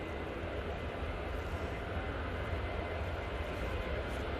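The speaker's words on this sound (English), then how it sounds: "the TUI are now on the roll to Palma de Mallorca using the 737-800" A TUI Boeing 737-800 on its take-off roll at Manchester Airport, bound for Palma de Mallorca, gives a steady, broad jet engine roar that holds constant and fairly distant throughout.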